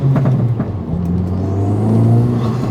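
A manual car on the move, with a steady engine hum and rumble and a brief dip as it shifts from first to second gear, then the drone settling at a lower pitch, close and fairly loud.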